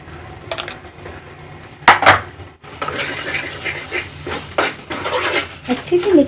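Spices for aloo baingan stirred in a pan, with spoon clanks and scraping against the metal, a sharp clatter near the start and then continuous rough stirring, close and fairly loud, with someone talking.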